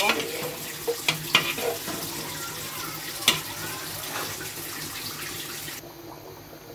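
Beef curry with potatoes being stirred in a pot just after water is added, giving a soft bubbling simmer with a few sharp spoon clinks against the pot.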